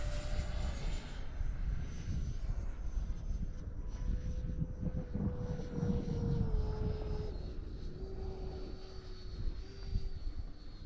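A Freewing 70mm F-16 RC jet with its gear down comes in to land on roughly 20% power, its faint edged-fan whine shifting in pitch as it passes overhead, heard from a distance with no talk.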